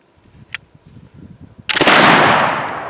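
A flintlock rifle loaded with 60 grains of Swiss 3F black powder fires once, a sharp loud boom after faint rustling and a brief click, followed by a long fading rumble.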